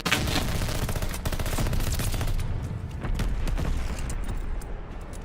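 The Automaton rifle in Call of Duty Vanguard fires in loud, rapid, unbroken bursts, sharp shots crowding one another for several seconds with no voices over them.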